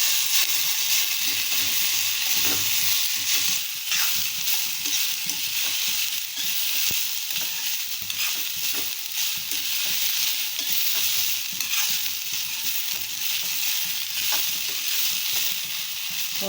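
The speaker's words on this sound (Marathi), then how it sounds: "तेल घालून अजून जरा भाजून घेऊया" Cluster beans (gavar) roasting in oil in a pan give off a steady, loud sizzle and hiss for the whole stretch, with occasional scraping stirs and no voices.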